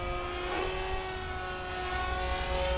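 A Goblin 500 RC helicopter flies with a noisy tail rotor. A steady, high, tonal whine of rotors and motor holds at an even level throughout, with no talking.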